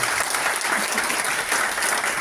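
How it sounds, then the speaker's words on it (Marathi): Workshop audience at a NET SET coaching programme inauguration claps in a dense, sustained burst of applause, steady and fairly loud throughout. "सगळ्यांनी टाळ्या वाजवायच्या"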